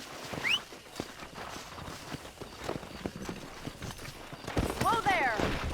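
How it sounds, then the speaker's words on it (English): Horse hooves clip-clopping on the ground in the western video game Red Dead Redemption, a steady run of close, uneven hoofbeats with game voices, a whinny and other effects mixed over them. "Let's see if we can't wrangle some horses."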